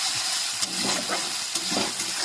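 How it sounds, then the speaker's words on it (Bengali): Ginger and garlic fry in a pan as chicken goes in: a steady, close sizzle and hiss with brief bursts of stirring and scraping, and no talk. "এবার আদা রসুনটা ভেজে কিন্তু আমি এর মধ্যে চিকেনটা চাপাবো।"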